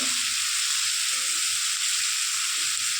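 Spices of turmeric, Kashmiri chilli powder, coriander and cumin powder sizzle steadily in a hot pan for a few seconds, a constant close frying hiss with no voices.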